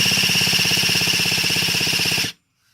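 An electric starter motor spins an unfueled RC nitro engine through its gears, giving a loud, steady mechanical whirring buzz at close range for about two seconds before it cuts off abruptly into silence.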